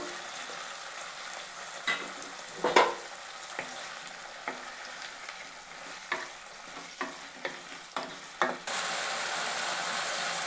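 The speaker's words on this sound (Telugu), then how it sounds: "ఇప్పుడు ఈ ఆకులోనే నేను టమాటా ముక్కలు వేసుకున్నాను" Tomato pieces fry in a pan with already-fried mint leaves, a soft sizzle broken by scattered clicks and scrapes of stirring, then a steadier, louder frying hiss near the end, close and without talk.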